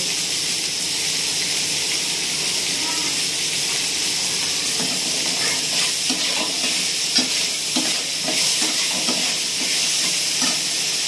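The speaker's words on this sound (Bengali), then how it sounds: "দিয়ে ভালো করে নেড়ে চেড়ে নেব।" Food sizzles steadily in a pan with tomatoes just added, and a spoon scrapes and stirs in a run of close, rhythmic strokes that build toward the end.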